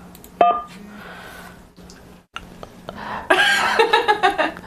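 A telephone keypad tone pressed to accept a call, a short sharp beep near the start followed later by a burst of mixed electronic tones and chatter-like sounds, fairly loud and close.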